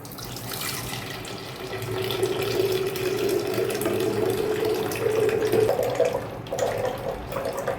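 Beetroot, lemon and mint juice strained and poured, a continuous close stream of liquid splashing with a rising tone as the vessel fills, alone without voices.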